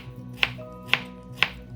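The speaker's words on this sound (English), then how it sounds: "Cut and chop up a wedge of pineapple." Knife chopping through a wedge of pineapple on a board: three crisp, evenly spaced chops about half a second apart, close and clear over quiet kitchen background.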